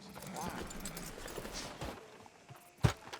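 Horse hooves clip-clop slowly in the video game Red Dead Redemption 2 on a town street by a sheriff's office, soft and fairly faint under ambient noise and voices, ending with a sharper thud.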